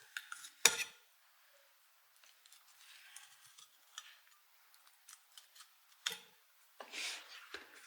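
A kitchen knife slicing along a pompano fish to fillet it, with a few sharp scrapes and clicks against the board between quiet stretches, close and fairly faint.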